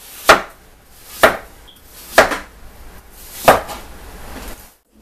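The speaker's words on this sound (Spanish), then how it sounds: "Miren, también las voy a cortar." A knife chops apples into wedges on a board for fruit punch, four sharp, evenly spaced cuts about a second apart, close and loud with quiet pauses between.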